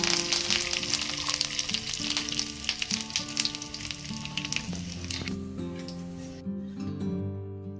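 Mustard seeds, cumin and curry leaves sizzle and crackle loudly in hot tempering oil for vada pav potato filling, a dense continuous frying hiss with popping bursts, easing slightly toward the end.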